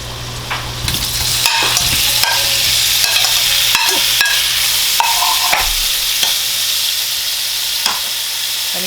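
Sausages fry in olive oil in a pan with a steady, close, crackling sizzle throughout. Occasional scrapes and small pops rise above the continuous hiss, and no one speaks.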